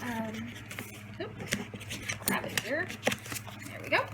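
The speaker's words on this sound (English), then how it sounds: "that's my dog and my cat playing" Household dog and cat play together nearby, with soft whimpers and yips rising in short bursts over a steady low hum, while a person talks through most of it.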